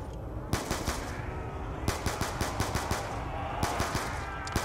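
Assault rifle fire in Call of Duty Nuketown Zombies, heard as a loud, steady stream of rapid shots over continuous game noise.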